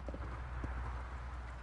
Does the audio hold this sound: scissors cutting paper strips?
no